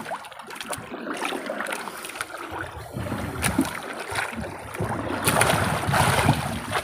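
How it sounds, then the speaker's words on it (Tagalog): Paddle strokes splash and dip through the water alongside a fishing boat, with lapping water and light wind noise, continuous and fairly close. "sagwan kunti para medyo mabilis-bilis yung takbo"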